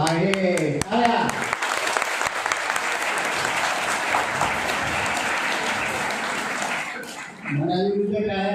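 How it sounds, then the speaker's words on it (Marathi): Students in a classroom lecture break into a long burst of steady applause, with someone speaking just before and after the clapping. "टाळ्या."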